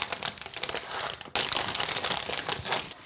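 Plastic packaging of a magnetic MDF tile kit being opened, with steady close crinkling and crumpling and a sharper rustle partway through, without speech.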